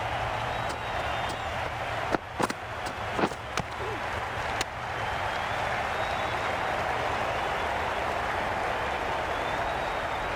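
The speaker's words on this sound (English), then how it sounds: "Will you listen to that crowd?" A stadium crowd at a women's T20 cricket match between India and Sri Lanka roars steadily after a six, a dense continuous wash of cheering with a few sharp claps and thuds standing out early on.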